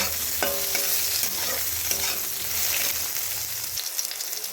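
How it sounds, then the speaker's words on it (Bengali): Eggplant pieces are stirred and fried in tempered oil, producing a loud, continuous sizzle with a scraping, rhythmic stirring rattle that cuts off abruptly near the end. "বেগুনগুলো দিয়ে একটু ভালো করে নাড়াচাড়া করে ভেজে নেব"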